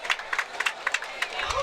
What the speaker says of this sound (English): Crowd gives him an applause.